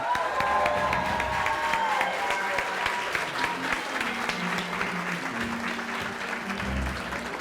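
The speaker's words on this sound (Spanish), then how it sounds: "reciban con un aplauso, con una bulla, como se merece, a El Prezi." An audience breaks into loud applause and cheering as a presenter welcomes a guest on stage, dense continuous clapping with crowd shouts and whoops layered over it, sustained throughout.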